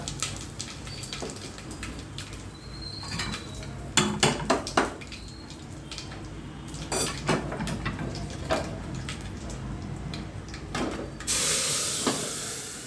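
A lid is set onto a pot of fenugreek-leaf dal with slit green chillies. A few close metallic clanks ring out over a steady background hiss and sizzle, with no talking.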